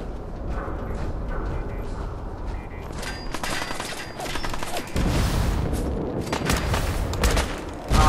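Rapid bursts of gunfire from guns in the Fallout video game, crackling shots in quick succession that grow louder and denser toward the end amid mechanical game effects.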